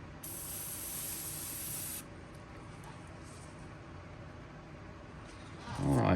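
An airbrush spraying black carbon paint unevenly for a bream swimbait lure gives one steady, high hiss for about two seconds, then fades to quiet room noise before a low rumble at the end.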